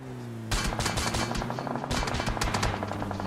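Rapid automatic gunfire from the PUBG Mobile video game rattles in dense, loud bursts, starting abruptly and continuing with a short pause and renewed volley.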